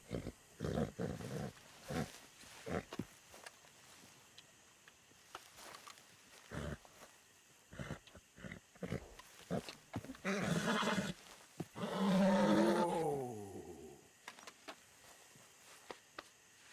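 A horse in the video game Red Dead Redemption 2 snorts and huffs in short bursts with scattered hoof clops, then gives one long, loud whinny near the end before things settle back to quiet breaths.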